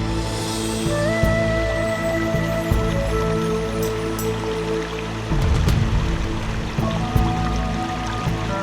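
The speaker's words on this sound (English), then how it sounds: "The clear water of the Seven Springs forms a small creek that trickles its way beneath the dense leafy canopy of ancient plane trees." A small spring-fed creek trickles beneath ancient plane trees at the Seven Springs on Rhodes, a steady close water babble with soft splashes, mixed with sustained tonal hum.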